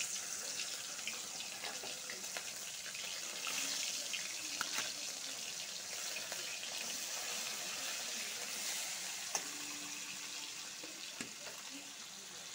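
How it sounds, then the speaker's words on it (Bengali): A medium-sized Bata fish fries in hot oil, giving a steady, even hiss with a few faint clicks and no speech. "তেলটা গরম হয়ে গেছে, মাছটা ঢেলে দিব।"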